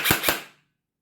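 An airsoft gun fires two rapid sharp shots through an E9800-X chronograph, close and snappy cracks a fraction of a second apart, followed by a short fading ring and then silence.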